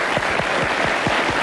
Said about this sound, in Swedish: En applåd till honom.